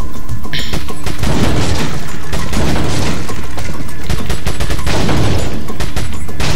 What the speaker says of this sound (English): I'm gonna go with rapid fire. Not sure how a shotgun is rapid fire